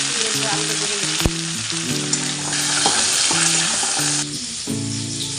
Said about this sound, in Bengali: এরপর আলুটা ভেজে নিচ্ছি